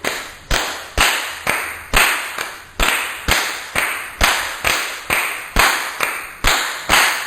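Hands clap a steady salsa basic rhythm, about two claps a second with small gaps that mark the pattern. The claps are sharp, loud and close, with no talking.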